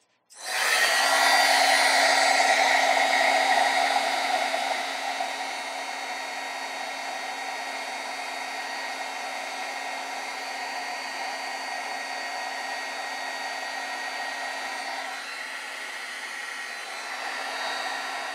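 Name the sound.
heat tool melting embossing powder on card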